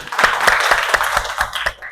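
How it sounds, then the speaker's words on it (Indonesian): Scattered hands clap at an irregular, loose pace, each clap distinct and close, a small group applauding briefly. "Tepuk tangan untuk semuanya"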